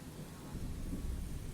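Thunder rumbles low and steady under a wash of rain in a haunted bungalow horror tale, a continuous dark roar with no voices.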